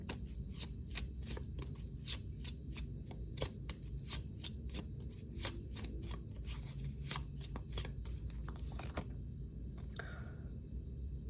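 Oracle cards are shuffled at length, a rapid close riffling and tapping of card stock that runs steadily before stopping near the end, without talking.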